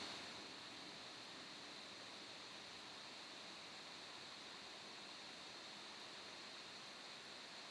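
Hydrofluoric acid pours steadily into a container to form a bath for a borosilicate glass inner joint, making a continuous, even wash of liquid that holds at one level, close by and alone.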